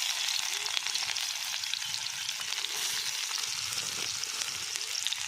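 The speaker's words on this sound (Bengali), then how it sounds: "পেঁয়াজটা ভালো করে ভেজে নিতে হবে।" Onions frying in hot oil in a pan give a steady, dense sizzle that holds at an even level throughout, with no talking.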